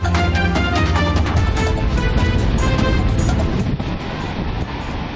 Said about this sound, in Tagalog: Malakas na ang alon at hangin sa coastal town ng Palanan, Isabela